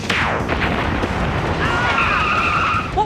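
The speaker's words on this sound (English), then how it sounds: "I think that was a plane robot shooting missiles at our car." A TV show sound effect of a robot plane's missiles striking a car: a loud, dense blast with a falling whine, then a harsh ringing screech, continuous and close throughout.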